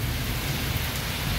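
Heavy monsoon rain in the first downpour of Sawan, driven by strong wind, roars as a steady, dense wash of noise with no pauses and no voices.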